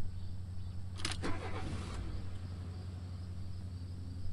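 A car engine in the video game Streamer Life Simulator cranks and starts with a short whirring burst, then settles into a steady low idle hum that carries on alone to the end.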